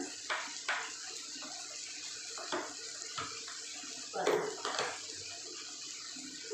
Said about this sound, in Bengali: অল্প সামান্য একটু জল দিয়ে দিই, জল দিলে তাহলে মশলাটা পুড়ে যাবে না